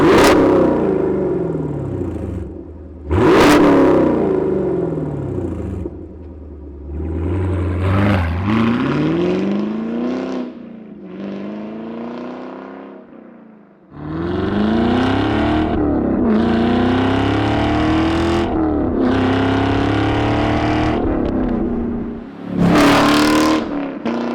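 A car fitted with a new MBRP Installer Series axle-back exhaust and a Roto-Fab intake with sound tube delete revs repeatedly, several loud rising blips and sustained pulls with short pauses between, close by and alone.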